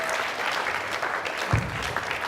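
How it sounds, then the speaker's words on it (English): An audience at a youth forum gives a brief round of applause, a dense, moderate patter of clapping lasting a couple of seconds. "a big round of applause"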